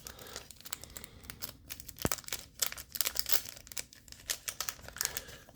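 Thin foil booster card packs for a trading card game being torn open from the back, a run of close, crisp crinkling and ripping bursts with one sharp snap partway through.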